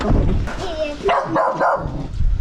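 A dog barks several times close by in a frontline village during a family evacuation, the sharp barks mixed with a few yips, and people talk around it.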